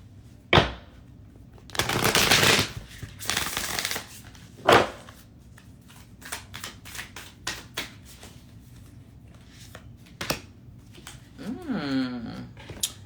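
Cards riffled and shuffled in a few quick bursts close by, with soft handling noises and brief pauses between.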